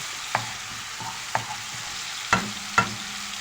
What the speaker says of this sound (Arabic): دول معلقتين برضو فلفل مفرومين، وهقلب.